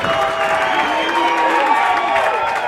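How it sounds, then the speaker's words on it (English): A large rugby grand final crowd, Southern Suburbs v Woodville, roars in a loud, sustained cheer with whoops and scattered clapping, while a commentator talks over it. "The biggest cheer of the night goes to Save"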